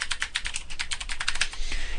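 Rapid typing on a computer keyboard: a quick, uneven stream of close, crisp key clicks with no one talking.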